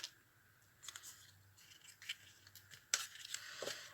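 Scissors snip through paper while a folio-style road book is being cut and assembled by hand: a few quiet, crisp cuts spaced irregularly over several seconds, with one sharper snip near the end, in a calm room with no talking.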